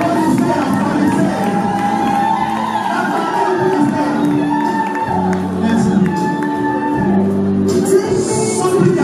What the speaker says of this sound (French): Soyez dans la joie, applaudissez, applaudissez.